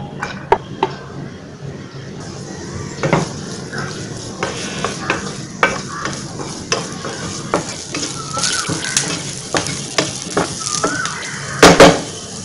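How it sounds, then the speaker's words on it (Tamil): Onion sautéing in oil for chutney, a steady sizzle under repeated spatula scrapes and metallic clinks against the pan, close and fairly loud, with a sharper clatter near the end. "ஃபர்ஸ்ட் நம்ம வெங்காயம் வதக்கிக்கலாம்"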